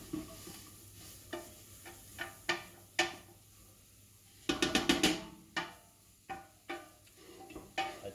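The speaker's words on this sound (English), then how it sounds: "so we should be able to sweat these veggies like this" Diced vegetables sweat in a pot with roux for sausage and shrimp gumbo over medium heat, a soft steady sizzle broken by repeated stirring scrapes and clacks of a spoon against the pot, close and without talk.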